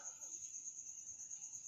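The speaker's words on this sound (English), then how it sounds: "you can hear the crickets" Crickets chirp at night at a campsite in a thin, continuous high trill that stays steady and faint throughout, with no other sounds around it.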